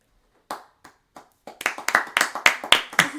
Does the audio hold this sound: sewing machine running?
no